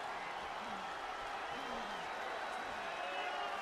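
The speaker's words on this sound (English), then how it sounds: "you can hear the crowd buzzing a little" A steady, dense wrestling crowd murmur buzzes continuously at moderate distance in WWE 2K22, with faint tonal sweeps drifting through the background.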